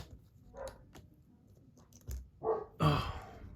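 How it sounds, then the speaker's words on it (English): Dogs bark indoors at something outside, a few separate barks spread over a few seconds, moderately near, the last two louder and closer together, with no talking over them. "the dogs see somebody outside, it sounds like"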